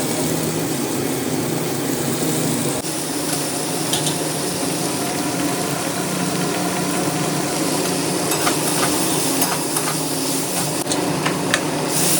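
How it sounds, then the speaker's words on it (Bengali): Paneer frying in a pan makes a loud, continuous, dense sizzle close up, steady throughout with occasional faint clicks and no talking. "আমি পনিরটাকে ভাজতে বসিয়ে দিয়েছি"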